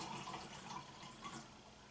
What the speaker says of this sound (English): I'm going to pour a little bit of water in there.